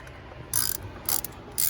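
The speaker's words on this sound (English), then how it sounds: "I'm going to be using a 10mm socket and ratchet." A 10mm socket on a ratchet turns bolts while a camshaft position sensor goes back onto a 2005 Nissan 2.5 L four-cylinder engine. It gives three short bursts of close, crisp clicking with quiet pauses between them.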